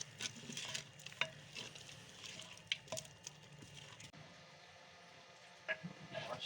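Spices are stirred into aloo gosht in a pan, a soft sizzle with scattered scraping and clinking of a spoon against the metal, faint and close with no talk.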